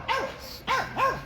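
A dog gives three quick barks in a row, fairly close and clear, with a short gap before the last two.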